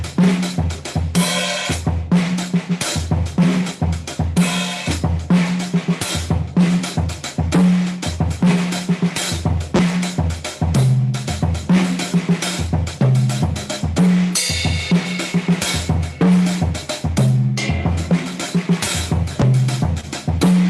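A drum kit plays a funk phrase in 11, an odd-meter groove of dense, steady hits with bright cymbal or cowbell-like accents. It loops continuously and loudly for about twenty seconds with no talking.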